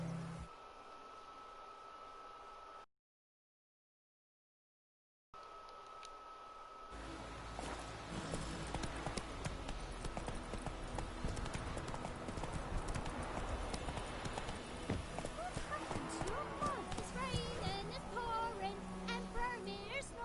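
The horse Roach in The Witcher video game trots and gallops, its hooves beating a steady repeated clip-clop that grows louder and denser, with a brief dropout early on.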